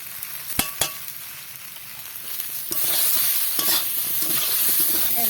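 Fish roe stir-fries in a pan with ginger paste, cumin powder and dry red chilli powder. A few sharp clicks of a spatula come first, then a steady frying sizzle rises and continues to the end.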